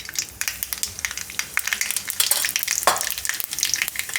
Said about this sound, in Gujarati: તેલ ગરમ થઈ ગયું છે આપણું. તો એમાં આપણે થોડીક રાઈ નાખીશું, થોડુંક જીરું નાખીશું